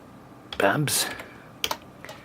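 A few short keystroke taps on a computer keyboard sound close and fairly quiet, with a brief murmur of a voice heard between the clicks.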